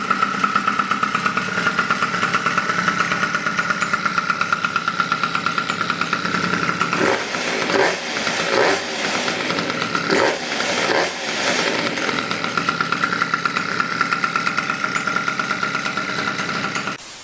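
A moped engine fitted with a Variotop 115mm variator runs close by, holding a steady idle with a buzzy pulse, briefly revving in a few surges midway before settling back to idle.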